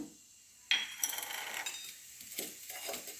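A spoonful of cumin seeds drops into hot oil in a pan and sets off a sudden, bright sizzle that crackles and spits steadily at close range before settling into a softer fry.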